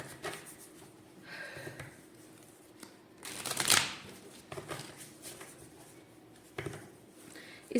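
Tarot cards being shuffled by hand in a quiet room, a soft papery riffling that swells into a brief louder burst of flicking cards midway, then settles back to faint handling.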